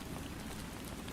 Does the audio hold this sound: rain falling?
yes